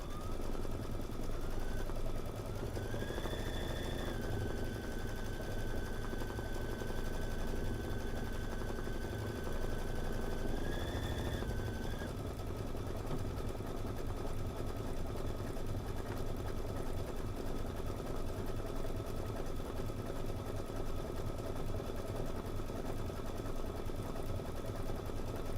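Sewing machine stitching a shrinky appliqué, a steady close motor hum whose pitch rises twice in short runs, then continuous fast running for the rest, with no speech.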